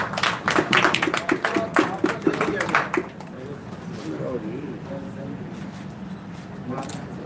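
An audience at a journalist training workshop in Lahore breaks into a few seconds of brisk clapping, which then fades to room murmur and quiet talk.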